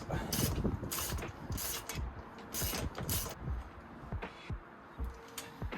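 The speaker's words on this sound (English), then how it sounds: "you're going to need 2 ratchets, both with 13mm sockets, and crank them up" Two ratchets fitted with 13mm sockets crank down the crash slider bolts on a Honda CBR650R, giving bursts of quick close-up clicking and mechanical rattling that repeat several times with short pauses between, with no talking.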